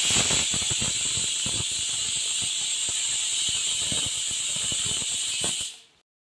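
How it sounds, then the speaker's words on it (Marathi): A pressure cooker holding masala moong dal daliya khichdi lets out a steady, shrill whistle over rushing steam hiss and faint rattling, loud and unbroken for about six seconds before cutting off abruptly. "बघा आता आपण कुकरचं झाकण लावून घेऊया आणि आता एक 4 शिट्ट्या होईपर्यंत वाट बघूया"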